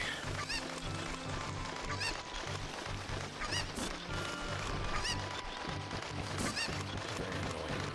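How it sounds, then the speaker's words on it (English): Cucco chickens in the video game The Legend of Zelda: Ocarina of Time, loud repeated squawking clucks layered over busy game music and effects, continuous and dense throughout. "Very annoying noise of the chicken."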